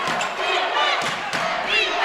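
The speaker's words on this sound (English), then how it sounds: "And the Panola crowd is getting into it now" At a college basketball game between Panola and TVCC, a gym crowd roars and cheers in a dense, continuous wall of noise, with a few thuds and a commentator's voice mixed in.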